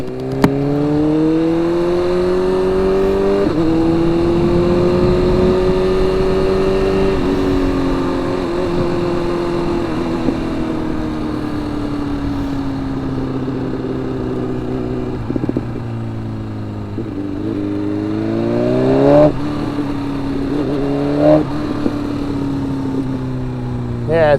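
A motorcycle engine hums steadily on a ride in 30-degree cold weather, the first ride of 2024, with a continuous drone that shifts pitch as the bike speeds up and slows, heavy wind rush, and no talk.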